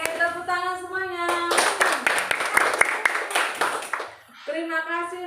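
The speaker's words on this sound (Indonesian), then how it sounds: "Oke, tepuk tangan semuanya." Classroom full of children clapping together after a lesson, a loud burst of rapid hand claps of roughly three seconds, with a teacher's voice before and after.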